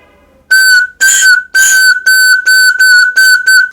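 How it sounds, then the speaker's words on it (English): A butterfly-shaped candy whistle is blown in eight loud, shrill bursts, evenly spaced and close, each a bright steady tone standing alone with nothing else around it. "this is butterfly candy whistle"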